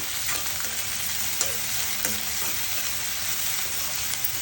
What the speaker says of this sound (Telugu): ఉల్లిపాయలు, పచ్చిమిర్చి, కరివేపాకు దోరగా వేగాలండి